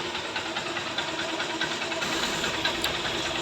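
A motorcycle engine runs continuously nearby with a fast, rattling idle and steady mechanical buzz, no voices present.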